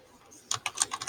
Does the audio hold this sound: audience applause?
no